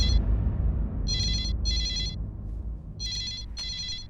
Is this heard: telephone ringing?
yes